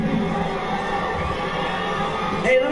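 A dense crowd in the Red Dead Redemption 2 video game shouts and cheers as streakers run through it, a steady mass of overlapping voices with one louder burst near the end.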